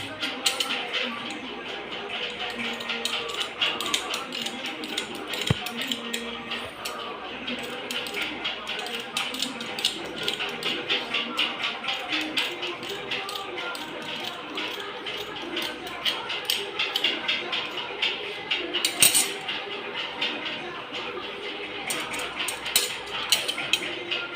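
Blouse lining fabric being cut with a steady stream of quick crisp snips and light clicking that runs throughout alongside speech.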